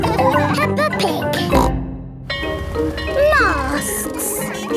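Cartoon pig oinking from the animated children's show Peppa Pig, several squealing snorts mixed with a voice and bright music, loud and close.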